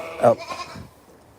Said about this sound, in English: This small horse that's impersonating a goat.